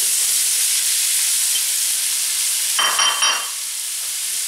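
Diced onion and sliced mushrooms sizzling loudly in a pan, a steady close hiss of frying throughout, briefly stirred near the end before the sizzle settles slightly lower, no voices.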